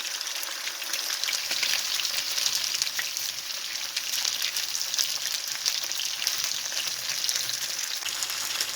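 Shrimp and chicken fry in a pan for Kung Pao chicken, a steady, even hiss and crackle of hot oil that carries on without pause and without voices.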